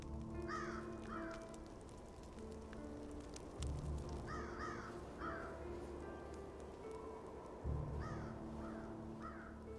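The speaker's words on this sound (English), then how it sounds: "Wow, look at all the crows here." Crows caw repeatedly in a scene of the Octopath Traveler video game, hoarse calls in pairs and short bursts over a steady bed of game music and ambience, moderately loud throughout.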